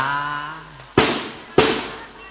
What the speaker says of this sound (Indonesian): Alhamdulillah ada mercun. Ada bagian pesta mercon.